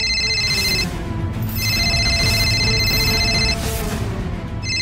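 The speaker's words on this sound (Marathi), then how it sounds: "ह्या वेळेला कोणाचा फोन?" A telephone rings in steady repeated electronic bursts, three clear rings with short gaps between them, loud and close with no talking over it.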